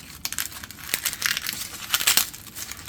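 Dry bromeliad leaves are pulled and torn out of a houseplant with close, crisp crinkling and ripping rustles in uneven bursts, no voice over them.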